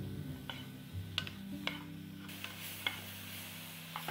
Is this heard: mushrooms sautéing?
yes